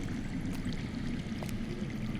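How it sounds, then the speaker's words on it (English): Steady rushing and trickling of underground flowing water in a Game of Thrones Telltale video game scene, a continuous close stream with no voices. "That's water. I hear water. From underground."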